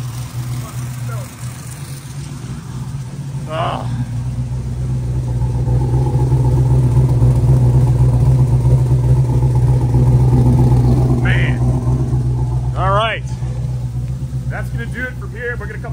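A turbocharged Camaro engine idles with a steady, loud low rumble and drone, swelling slightly in the middle, while a few short chirps and background voices break in toward the end.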